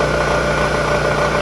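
A milling machine converted into a lathe spins an engine head at 500 RPM, giving a loud, steady mechanical hum and whir with fine vibration, close up and without talk.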